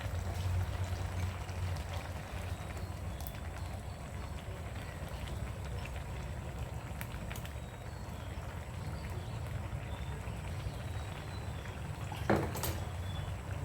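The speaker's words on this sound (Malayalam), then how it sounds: "അരച്ച് വെച്ചിരിക്കുന്ന ഗ്രേവി ഇതിനകത്തോട്ട് നമുക്ക് ചേർത്ത് കൊടുക്കാം" Thick ground gravy pours and spatters softly into a pot of tomato kurma, a steady wet sizzle with a brief clink of a utensil near the end.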